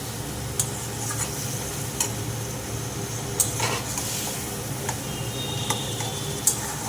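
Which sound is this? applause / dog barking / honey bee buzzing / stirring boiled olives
stirring boiled olives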